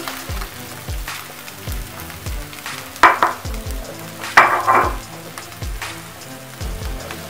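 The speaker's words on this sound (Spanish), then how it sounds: "vamos a esparcir un poco el aceite y vamos a proceder a agregar la cebolla" Chopped onion tipped into a preheated pan of extra virgin olive oil for a Peruvian seafood stew, crackling and sizzling steadily with sharp bursts as the pieces land and get stirred, close and clear with no talking.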